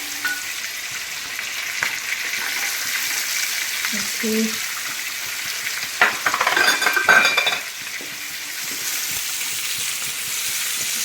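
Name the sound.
shallots frying in pan for kanthari chicken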